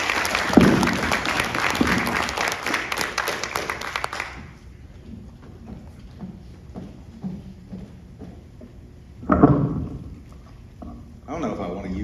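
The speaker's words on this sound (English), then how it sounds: "Let's give our students the encouragement and applause they deserve as they take this exciting step towards their future endeavors." An audience applauds student entrepreneurs at an evening entrepreneur competition at Yvonne A. Ewell Townview Center: dense clapping for about four seconds dies away into a quiet room, with a short second burst of claps near the end.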